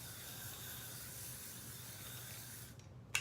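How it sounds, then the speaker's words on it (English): Hair spray hissing from an aerosol can in a short, steady, soft spray that stops abruptly near the end, close to the microphone. "Give it a spritz of spray"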